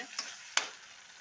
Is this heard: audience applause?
no